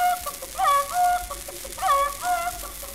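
Voice imitation of a barnyard with an old Shanghai rooster and flocking hens on a 1906 recording, a few rising crowing and clucking calls, mid-distance with a noisy background.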